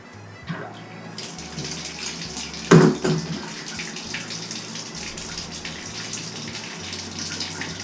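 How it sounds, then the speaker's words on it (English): Water runs and splashes from a Moen tub and shower faucet, a steady hiss of flow with a brief louder gush near the middle, and no talking. "See, it started dripping again when you turned it too far."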